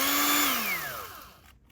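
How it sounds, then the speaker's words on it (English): A power drill bores into the Apple logo on the back of an iPhone, a brief loud whine whose pitch sinks steadily as the motor slows and dies out. "we're gonna see just what happens if you try and drill a hole through your iPhone's Apple logo"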